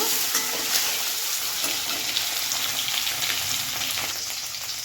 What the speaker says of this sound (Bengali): তেলটা গরম হয়ে গেছে ডিমগুলো দিয়ে দেবো ডিমটা একটু ভালো করে নাড়াচাড়া দিয়ে নেব